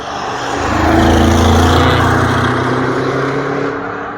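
An Audi RS6 prototype car drives past at the Nürburgring, its engine swelling from a distance to a loud near roar around the middle and then fading away as it passes alone.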